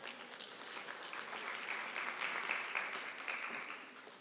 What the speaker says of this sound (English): she deserves a huge round of applause, ladies and gentlemen